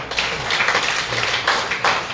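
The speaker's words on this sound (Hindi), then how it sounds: "मैं चाहूंगा कि आप एक बार और अपने लिए तालियां बजाएं" An audience at a real estate group's speech event claps together in a dense, continuous patter of hands, moderately near, with a few stronger bursts.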